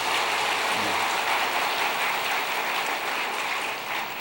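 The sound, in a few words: congregation applauding in church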